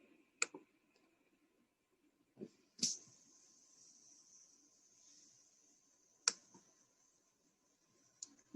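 A computer mouse gives a handful of crisp, isolated clicks, close and quiet. A thin sustained tone briefly sits between two of them in an otherwise silent stretch.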